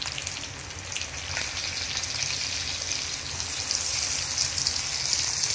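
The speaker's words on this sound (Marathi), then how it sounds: "सगळं आपण भाजून घेऊया बरं." Onion, ginger, garlic, green chillies and plenty of coconut roasting in a pan make a continuous bright sizzle and crackle, steady and close, slightly louder toward the end, with no voices.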